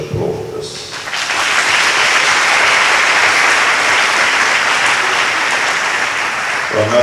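Audience applause fills a school awards ceremony, a dense, loud, steady wash of many hands clapping that swells in after a brief moment and holds strong to the end.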